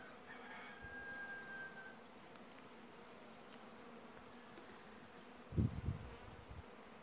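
A honeybee swarm in Siberia clusters on a hive, giving a steady, even insect hum that carries on alone, with a brief louder thump or rustle near the end.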